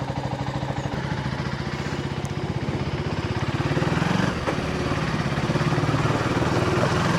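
A motorcycle engine drones steadily and close, with a pulsing rumble that swells a little partway through as the bike pulls away, with no talking.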